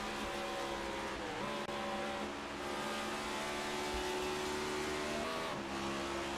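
A Next Gen Cup race car in a sim race, a five-gear machine, holds a loud, steady engine drone that briefly drops in pitch as it shifts, once early and again near the end, among other cars.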